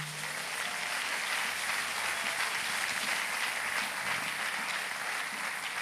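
Church congregation applauding during a Sunday worship service, a steady dense wash of clapping and cheering that holds evenly throughout with no pause.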